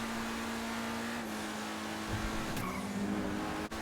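A 1990s car in GTA Online drives with a steady engine hum and road noise, joined by a couple of brief tire squeals or skids toward the end.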